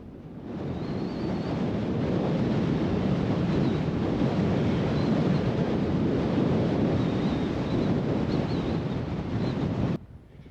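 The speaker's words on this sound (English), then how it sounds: "it was interesting and really kind of beautiful to see the sand dance across there in the wind" Wind blowing sand across dunes in a western national park, a steady loud rushing roar with buffeting on the microphone for about ten seconds before it cuts off abruptly.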